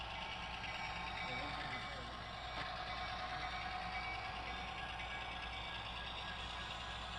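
A locomotive in a train simulator game rolls along a siding on the UPSF Joint Line, a steady engine drone with a high tonal hum holding evenly throughout, no talk over it.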